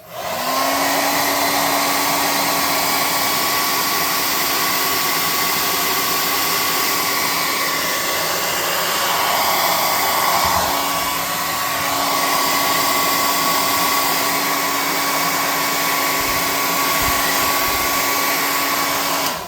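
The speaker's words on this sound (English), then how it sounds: "I'm going to hit it with my hot air gun." A hot air gun drying glue and sand on a model ruined building for tabletop gaming, blowing with a loud, steady, close whine and rush of air that hardly changes the whole time.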